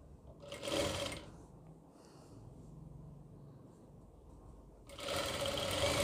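A sewing machine stitching a kurti runs in two short bursts of rapid stitching, one at the start and a longer one at the end, with a quiet stretch between them and no talk.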